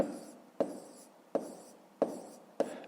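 A pen writes math on paper in five short, sharp taps and scratches, evenly spaced and faint, close up, with no other sound.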